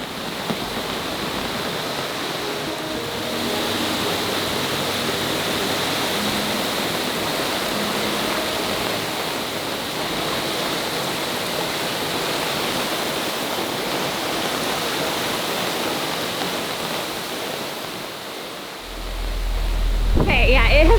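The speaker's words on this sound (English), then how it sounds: "It is dumping right now. Lots of water. There's a lot of water." Heavy rain pouring down on a boat, a steady loud broadband wash of water and spray that runs unbroken for about twenty seconds, with a louder rumble near the end.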